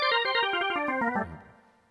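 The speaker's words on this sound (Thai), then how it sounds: "เสียงออแกน" Organ voice on a Casio CTK-4000 keyboard playing a quick descending run of sustained, harmonically rich notes, loud and alone, fading out over the last moment.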